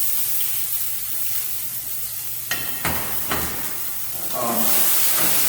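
Peppers and onions hitting a couple tablespoons of oil in a pan, a steady broadband sizzle with a few clattery stirring bumps midway, the frying swelling louder toward the end; no talking.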